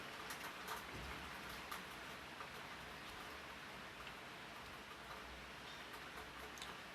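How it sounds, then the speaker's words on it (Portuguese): Steady rain patters on a surface, a constant broadband hiss with scattered sharper drop ticks, moderately loud and continuous with no voices. "Eu espero que a chuva não atrapalhe vocês de me ouvirem bem"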